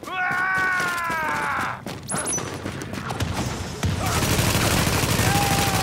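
A gun turret in the video game The Division fires dense, rapid bursts mixed with mechanical clanks and game effects, loud and continuous over several seconds with no clear talk.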